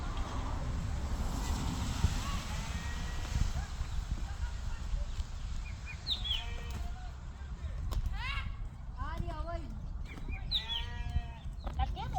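Several sheep bleat in a series of wavering calls from about six seconds on, over steady wind rumble and faint background voices.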